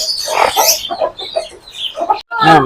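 Hens and roosters cluck repeatedly at a poultry sale, loud and close, several birds overlapping in short bursts with little pause.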